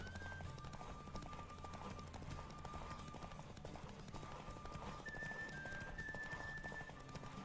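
A horse gallops in a race in The Witcher 3, its hooves clip-clopping at a rapid, even pace. Faint whinnies and thin tonal game sounds run over the hoofbeats, which stay quiet and steady.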